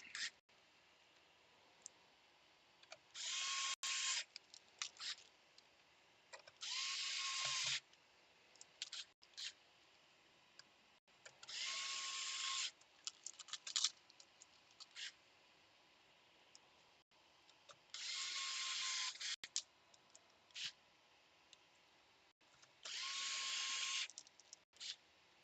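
Screws are removed from a roach-infested PS5 console during an HDMI port repair, heard as five short, loud whirring bursts separated by quiet stretches with faint clicks and handling noises.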